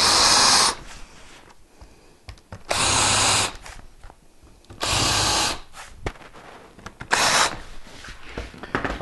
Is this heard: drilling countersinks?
yes